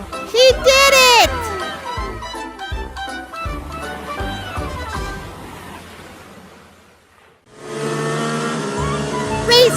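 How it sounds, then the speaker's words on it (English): A cartoon racing video game plays loud engine revs and whooshing car effects, with bright musical tones and a voice chattering over the top, a brief quiet gap, then engines surging again. "Racing game."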